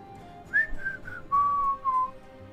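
Melodic whistling of a short tune in a few sustained and sliding notes, fairly close and clear against a quiet background, with no talking.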